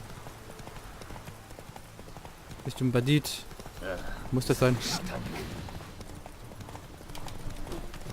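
Horse hooves clip-clop in the video game The Witcher 3 as a rhythmic trotting patter under someone talking, with a few louder bursts midway and fairly close, moderate loudness.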